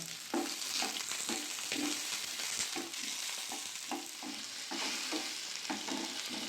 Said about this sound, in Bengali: ভালো করে এগুলো ভেজে নেবো।